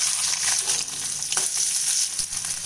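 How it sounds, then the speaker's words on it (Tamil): Onion frying in sesame oil for tempering a bitter gourd tamarind curry, giving a steady close hiss and crackle that runs throughout with a few small pops and stir scrapes, with no talk. "நான் இன்றைக்கி பாவக்காய் குழம்புக்கு நல்லெண்ணெய் விட்டுக்கிறேன் தாளிக்கிறதுக்கு"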